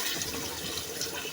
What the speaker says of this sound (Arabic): هننزل عليها بميه سخنه، ميه من الكاتل سخنه